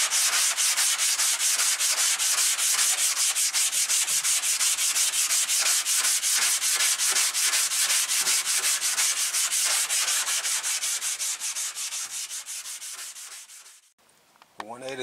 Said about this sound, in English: The 180 sanding is done.